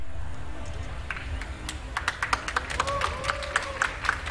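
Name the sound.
crowd cheering and clapping for winners LGD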